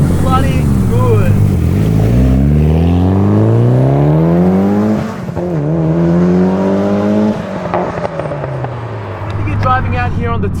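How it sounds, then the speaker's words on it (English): Modified Mitsubishi Lancer Evolution 8 turbo engine revs hard and close, pitch climbing in long sweeps with a dip midway, turbo surge and intake roar building, exhaust popping and crackling near the end. "the turbo starts to surge, and then the intake noise builds, and this exhaust just pops and crackles all day long"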